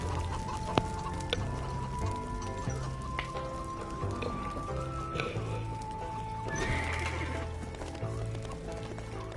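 In the Lego Movie video game, a horse neighs and whinnies over clip-clopping hooves, with game music and clucking fowl in the background.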